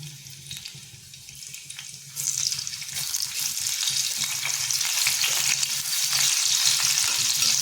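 Green chilies drop into about two spoons of hot oil for anda bhurji. A quiet hiss jumps into a loud, steady sizzle that keeps building.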